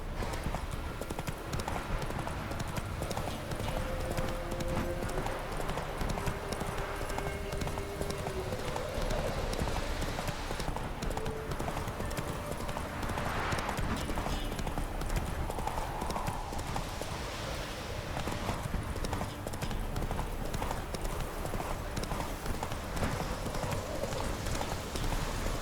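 Rapid rhythmic hoofbeats of a horse galloping in The Witcher 3 video game, continuous clip-clop over game music and ambience, steady and close, with a brief whinny.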